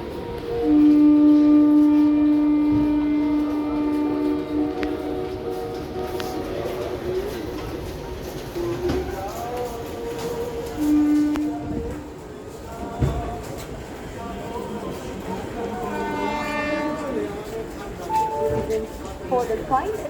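The Howrah Express, train number 18004, pulls into platform 4 of a busy Indian railway station, sounding long, loud horn tones over a rumbling approach while people talk nearby and birds coo in the background.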